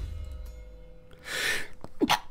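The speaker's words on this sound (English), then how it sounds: "Oh, a bit of a sneeze there." A single human sneeze, a sharp breathy burst with a short voiced tail, fairly close and alone after a quiet moment.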